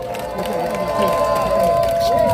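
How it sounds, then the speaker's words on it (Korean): Crowd at a Paju election campaign rally giving a dense wash of applause and cheering, steady and loud throughout, with tonal music or amplified sound lingering beneath. "말씀해주신 박영호 당협위원장께 다시 한번 힘찬 박수 부탁드리겠습니다."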